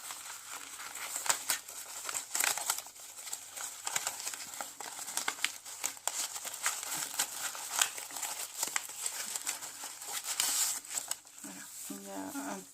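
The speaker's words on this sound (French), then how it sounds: "Ici, c'est un sachet en papier avec une photo à l'intérieur de cette pochette-là." A paper bag holding a photo is handled while assembling a junk journal, giving close, quiet bursts of crinkling and rustling that come and go irregularly, with no talking over them.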